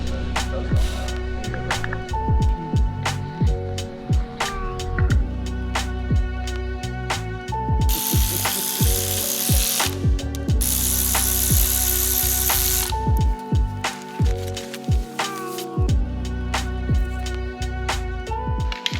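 A ratchet tightens cylinder head bolts on a supercharged LS2 engine, with rapid clicking bursts repeated close up, broken by sharp hits and two longer hissing stretches, with no talk.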